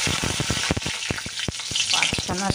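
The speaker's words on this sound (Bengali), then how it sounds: "দিয়ে এবার আমি একটু কালো জিরে আর কাঁচা লঙ্কা ফোড়ন দিয়ে দেবো।" Nigella seeds and green chillies sizzle and crackle loudly in hot oil in a pan, close up. A dense, steady frying hiss carries quick popping spatters while a Bengali ridge gourd and tengra fish curry is being made.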